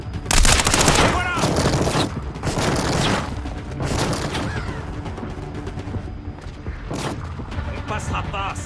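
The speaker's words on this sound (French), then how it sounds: "J'envoie une grenade." Gunfire bursts and explosions from the Echelon 4 video game, with a grenade blast among loud, repeated volleys that come in waves and then thin into scattered shots, with voices talking over the combat.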